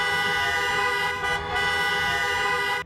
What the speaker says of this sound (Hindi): जिसके बाद सबने एक साथ हॉर्न बजाकर कार्यक्रम की शुरुआत की।